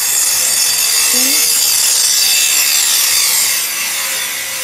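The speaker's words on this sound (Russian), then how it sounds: "что-то здесь ремонтируют, пилят, стругают" Steady, loud rasping of wood being sawn and planed nearby during building repairs at a hotel, a continuous scraping texture that eases slightly toward the end.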